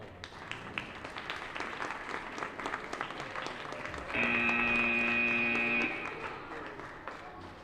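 Scattered applause at a robotics championship event, moderate and continuous, joined midway by a loud electronic buzzer tone that lasts a couple of seconds before the clapping carries on.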